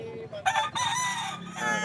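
Chickens and a rooster at the Santa Maria Pet Market: a rooster crows loudly and close, with clucking fowl around it and faint voices nearby.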